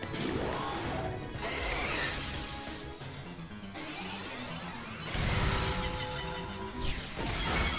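A Pokémon's Boom Burst attack in a video game battle produces a loud sustained explosive crash with whooshing and shattering layers, swelling again in a second big blast near the end.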